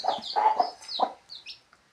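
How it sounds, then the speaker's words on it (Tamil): A protective mother hen clucks in a series of sharp, agitated calls, close and fairly loud in a quiet setting, with a few higher squawks at the end. "இங்கே பாருங்க தாய் கோழி சரியாக ஆக்ரோஷமாக இருக்குதுங்க"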